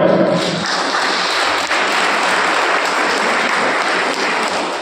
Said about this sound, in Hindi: इसके लिए आप जोरदार तालियां बजा सकते हैं, बजाओ भाई।